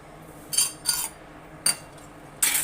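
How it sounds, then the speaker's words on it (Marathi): Four short metallic clinks and clanks, spaced unevenly, as a metal chakli press is handled close by in an otherwise quiet room. "इथे मी हे चकलीचं भांडं घेतलंय"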